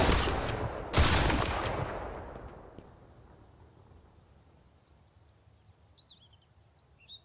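A shotgun blast in the game Mist Survival, a single loud sharp shot that rings out and decays over a couple of seconds, followed by faint bird chirps in the quiet afterward.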